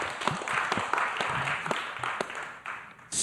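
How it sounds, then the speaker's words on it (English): A small audience applauds on request, scattered individual claps standing out within a moderate wash of clapping that thins out and fades toward the end. "Give a big round of applause"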